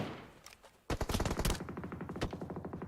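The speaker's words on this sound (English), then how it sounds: "That MK14 is just reigning supreme on automatic." An MK14 rifle fires on full automatic in a PUBG Mobile esports match, a sudden burst of rapid, sharp shots after a brief quieter moment, close and loud, then trailing into a quicker, slightly fainter volley.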